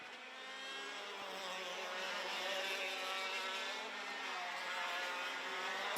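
100cc classic racing karts at Vojens circuit during a 2025 final: a continuous high-pitched two-stroke engine buzz, several karts overlapping and revving, steady and fairly loud throughout.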